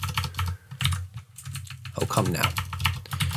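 Quick clattering keystrokes on a computer keyboard in uneven bursts, close and clear, while someone talks briefly over the typing.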